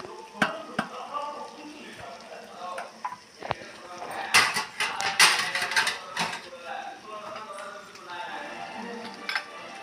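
Pasta ingredients sizzle in a pan while being stirred, with steady frying crackle, scraping spoon strokes and clinks against the pan, close up, and a voice talking over part of it.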